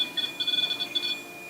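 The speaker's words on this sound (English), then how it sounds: "What was beeping? That was the REM pod's temp sensor, but it just finally stopped." A REM pod temperature sensor gives off a rapid series of thin, high electronic beeps, clear and close in a quiet room, cutting off after about a second.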